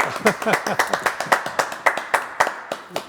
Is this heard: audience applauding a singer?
yes